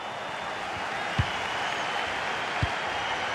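A stadium crowd roars in the FC 26 football game during Brazil versus Spain, a continuous broad wash of distant cheering with two brief low thumps.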